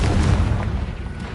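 A booming explosive blast from the Confringo spell in Hogwarts Legacy, a loud low rumbling burst that fills the short moment and slowly tails off.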